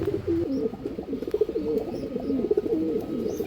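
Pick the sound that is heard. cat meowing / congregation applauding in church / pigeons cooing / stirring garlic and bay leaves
pigeons cooing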